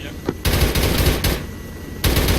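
Rapid automatic gunfire in the military video game Arma 3, loud bursts of sustained firing with a brief pause between volleys, with radio chatter faintly mixed in.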